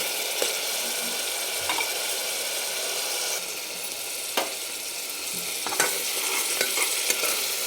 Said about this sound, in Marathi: छान गुलाबी कलरवर याला परतून द्यायचं आहे